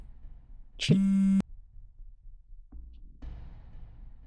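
A single loud electronic ring tone sounds for about half a second, followed by quiet room noise and faint rustling.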